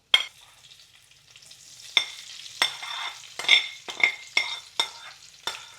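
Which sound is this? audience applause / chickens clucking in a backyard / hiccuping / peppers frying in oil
peppers frying in oil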